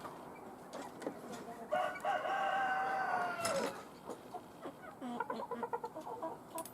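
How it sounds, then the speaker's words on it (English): A rooster crows loudly in the middle, surrounded by scattered clucking from three chickens in a temporary pen, with some rustling around them. "We got 3 chickens in there."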